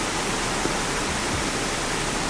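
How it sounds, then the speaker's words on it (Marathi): Heavy monsoon rainwater cascades down small roadside channels like miniature waterfalls in a flooded Devgad village in Sindhudurg, a dense, steady rushing wash that fills the whole clip without a break. "छोट्या छोट्या व्हाळींका धबधब्याप्रमाणे पाणी पडता"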